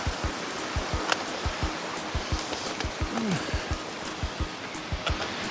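Steady rushing river water flows continuously nearby on the Stevens Trail, with soft regular thumps ticking along beneath it.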